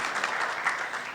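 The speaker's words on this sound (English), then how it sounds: "a good round of applause for the Toronto team is very much in order" A crowd applauding steadily, dense clapping filling the short stretch at a fairly loud, even level.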